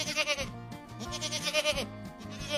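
Goats bleat on a farm, several wavering nasal calls in quick succession, close and fairly loud with no talking.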